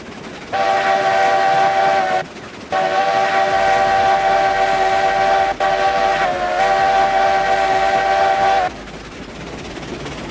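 Steam whistle of a locomotive in the Railroads Online video game, with a Heisler geared engine being dragged along, loud, steady, multi-toned blasts that hold for several seconds, broken by two brief gaps over a low rumbling run.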